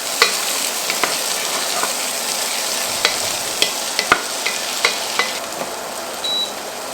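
Chopped onion fries in fat for Hungarian beef goulash, giving a constant bright sizzle close by, with scattered small pops and clicks of a utensil against the pot.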